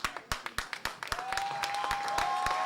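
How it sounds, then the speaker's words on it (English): Crowd applause after a tag-team wrestling match between American Wolves and Motor City Machine Guns at a 2CW event: scattered sharp individual claps at first, then thickening into steady moderate clapping, with a faint tonal hum joining partway. "another round of applause for these four Gladiators who just gave everything they could here in this matchup"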